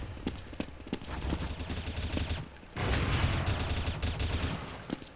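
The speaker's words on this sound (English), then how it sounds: "I can hear this guy shooting." Enemy gunfire in Area 51, the video game, rapid bursts of shots running almost continuously, close and fairly loud, with one brief pause midway.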